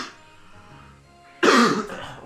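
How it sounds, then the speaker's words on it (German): A person clears their throat once, loudly and close to the microphone, in a short harsh cough-like burst after about a second of near quiet. "Ich muss nochmal husten und so halten."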